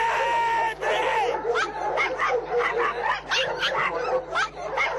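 Police-trained Rottweilers bark and yip continuously and excitedly at close range, layered over a steady low hum, with a voice briefly audible among the barks.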